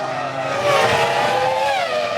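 A Formula 1 car spins at the 2004 Bahrain Grand Prix: a loud, high engine whine sweeps in pitch, with a brief skid and tyre scrub, for about two seconds.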